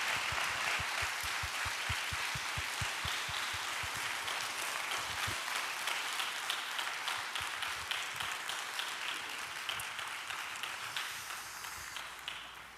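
Applause from a church congregation thanking a guest speaker at a newcomers' worship service, steady and full from start to finish, with sharp individual claps standing out near the front and the clapping slowly fading toward the end.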